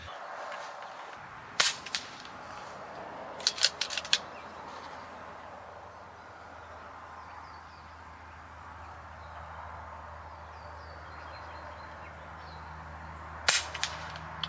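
An Umarex Notos G2 air rifle, tethered to a buddy bottle, fires JSB 18.13 grain pellets: three sharp cracks spaced a couple of seconds apart, then a quiet stretch and one more shot near the end, over faint background hum.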